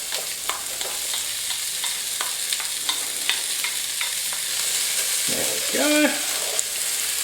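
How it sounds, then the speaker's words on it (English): Chopped medium brown onion and diced bacon rashers frying in a pot, a continuous sizzle dotted with light pops and crackles, close and steady, with a short spoken word toward the end. "We're going to start by cooking one chopped medium brown onion and 3 rashers of bacon"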